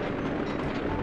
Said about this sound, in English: That explosion totally just took off Sly's legs.